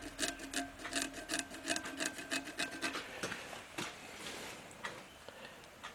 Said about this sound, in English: You can hear my nail catching on those.